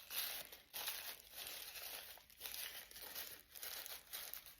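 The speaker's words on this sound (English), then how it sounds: "if you just pull all the tissue paper out and crinkle it around," Tissue paper being crinkled and bunched by hand into a paper flower, a steady close rustling and crackling that swells and dips over several seconds, fairly quiet, with no voices.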